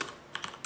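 Typing a fastboot flash command into a command prompt on a computer keyboard: a few quick, soft key clicks in a short burst, close and fairly quiet, with no voice.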